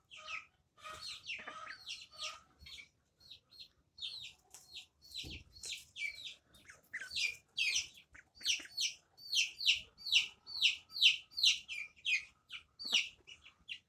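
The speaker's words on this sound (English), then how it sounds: "Those silly birds." Pet birds chirp in a series of bright, sharp calls, sparse at first and then faster and denser, close by in an otherwise quiet room with no talking.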